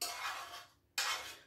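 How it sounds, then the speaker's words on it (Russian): Two short bursts of rushing water splashing over a frying pan being rinsed, separated by a brief pause, close by with no voices. "Сейчас я эту сковородку промою."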